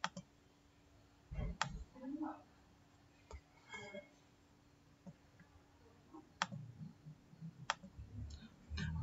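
Sharp computer mouse clicks sound several times at irregular spacing over a quiet room hum, while a person speaks between them during software sign-up.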